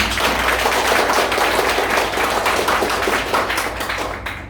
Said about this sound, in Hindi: हम सभी लोग मिल करके अपने सेफ्टी साहब के लिए जो है जोर से ताली बजाकर थैंक्स करें